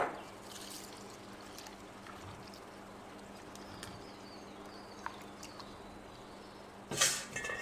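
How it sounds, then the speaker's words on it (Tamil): Red rice flakes (poha) being rinsed in water in a kitchen, with a low continuous wash of sloshing and trickling water, small drips and clinks, then a brief louder splash near the end. "இப்போ இந்த சிவப்பு அவலை வந்து தண்ணியில் கொட்டி ஒரு முறை அலசி எடுத்துக்கலாம்."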